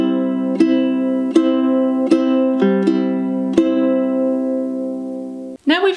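A ukulele picks a song's pattern at song tempo, a handful of bright plucked chords ringing clearly and sustaining between strums, alone and close, with a brief voice starting right at the end.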